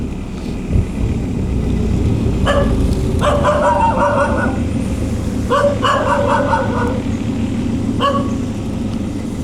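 Dogs bark at a durian orchard in Chanthaburi, Thailand, in three short bursts of repeated yaps over a steady engine and vehicle rumble, fairly close and loud.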